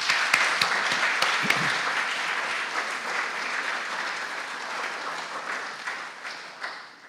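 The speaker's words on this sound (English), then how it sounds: "let's give them another clap." A congregation at a Sunday church service applauds. A few sharp, close claps come first, then the clapping blends into a dense, steady round that slowly fades.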